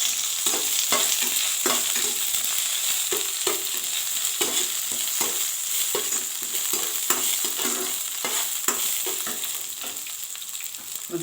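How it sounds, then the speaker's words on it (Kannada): Dried red chillies, curry leaves and crushed garlic fry in hot oil for rasam, a continuous close sizzle punctuated by regular scraping stirs of a spoon against the pan. "ಒಣಗಿದ ಮೆಣಸಿನ್ಕಾಯಿ, ಕರಿಬೇವು, ನಾವು ಜಜ್ಜಿಟ್ಕೊಂಡಿರೋಂಥ ಬೆಳ್ಳುಳ್ಳಿ ಇದೆಲ್ಲ ಹಾಕೋದು."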